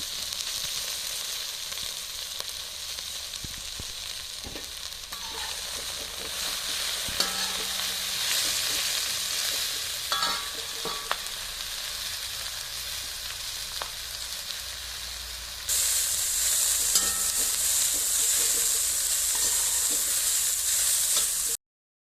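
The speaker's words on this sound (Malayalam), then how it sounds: "അതിലേക്ക് നേരത്തെ അരിഞ്ഞു വെച്ച ഇലകളിട്ട് നല്ലവണ്ണം ഇളക്കുക" Chopped pathila leaves stirred in a hot pan with curry leaves and chillies, a steady close sizzle and frying hiss with spoon scrapes throughout, growing brighter and louder toward the end, no talk.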